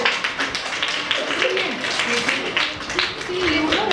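Children in a primary school classroom clap their hands for the teacher, a scattered burst of close claps with voices speaking over and around them.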